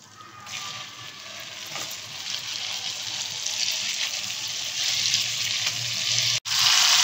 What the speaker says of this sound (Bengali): এই যে চিকেনটা যে ভাজা হচ্ছে এমনভাবে ভাজতে হবে